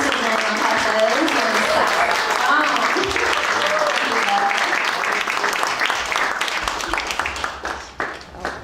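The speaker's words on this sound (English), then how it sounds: "Applause, please, for Mr. Daniel Heffes and" An audience at a Chinatown poetry reading claps, with sustained dense applause that thins toward the end while voices talk and call out over it.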